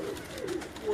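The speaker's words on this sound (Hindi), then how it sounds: "ये जो कबूतर है" Pigeons on a Lahore rooftop give soft low coos, a few murmuring calls close by with faint background noise and no clear speech.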